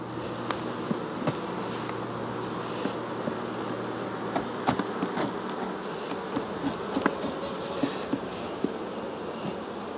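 A cluster of honey bees hums continuously inside an opened hive, a dense steady buzz close up with scattered faint clicks and knocks.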